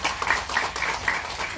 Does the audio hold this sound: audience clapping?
yes